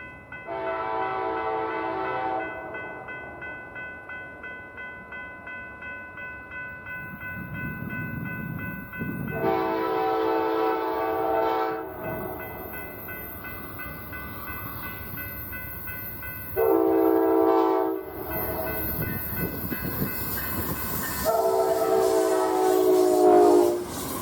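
A westbound Amtrak passenger train passes a sunny crossing at Canyoncito on the Glorieta Subdivision. Four loud, sustained horn blasts sound over a steady rolling rumble of railcars that swells as the train nears, with no talk.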